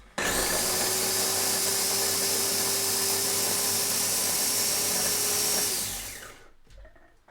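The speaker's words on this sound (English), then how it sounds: "So I have a little blender here. I'll just throw these chilies in" A loud, steady whirring blender motor grinds chilies continuously for about six seconds, then winds down and stops.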